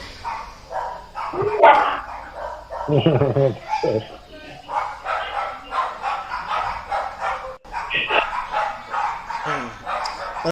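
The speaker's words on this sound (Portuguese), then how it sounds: "Só faz barulho, só tudo cachorrinho pequenininho" Several small dogs bark and yap excitedly in rapid overlapping bursts, loud and nearby, with someone talking among them.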